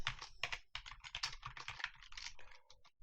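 Rapid, close clicking of keys as code is typed on a computer keyboard, uneven bursts of keystrokes with short pauses, quiet and alone without speech.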